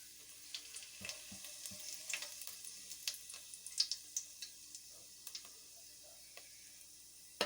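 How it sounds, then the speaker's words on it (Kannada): Whole spices such as fennel, cinnamon, cloves and cardamom frying in a little oil for Chettinad chicken gravy, giving a soft steady sizzle with scattered crackles and light pops, close and fairly quiet, with no voices. "ಸೋಂಪು, ಚಕ್ಕೆ, ಲವಂಗ, ಏಲಕ್ಕಿ ನಾನು ಹಾಕ್ಕೊಳ್ತಾ ಇದ್ದೀನಿ."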